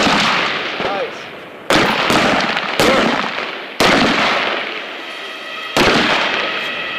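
An M4 rifle fires in the prone unsupported position during Army Table 6 qualification: several loud, sharp reports about a second apart, each with a fading outdoor echo.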